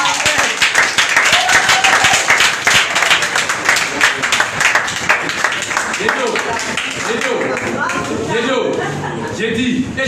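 A church congregation claps and cheers for Jesus, with dense continuous applause and scattered shouts from a lively crowd, loud and close, voices mixed in.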